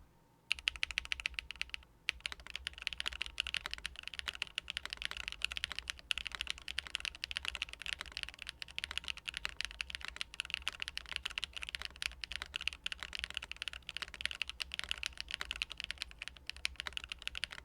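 Typing on a Baion Synovia keyboard with HMX FJ400 switches, GMK Expo keycaps and silicone dome dampening, a steady, quick, close clatter of keystrokes that runs without pause.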